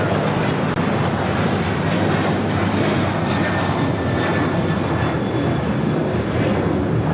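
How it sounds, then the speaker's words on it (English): An Alaska Airlines Boeing 737-900 takes off, its engines producing a loud, sustained broadband roar that holds steady throughout. "This is Alaska Airlines 1179 taking off to Seattle on the 737-900"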